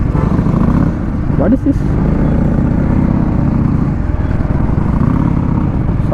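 An NS400 motorcycle engine rumbles on the road along the ECR, loud and continuous with slight surges, while someone talks over it.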